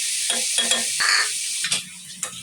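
Fresh squid frying in a pan is stirred with a utensil: a steady hiss of sizzling oil runs throughout, broken by several scraping strokes against the pan, close and fairly loud, with no talking.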